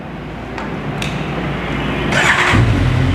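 A 2017 Honda CB1100RS motorcycle with its stock exhaust cranks and catches, then idles with a loud, throaty rumble that grows fuller toward the end.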